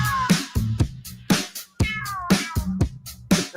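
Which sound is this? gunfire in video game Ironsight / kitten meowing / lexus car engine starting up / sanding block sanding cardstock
kitten meowing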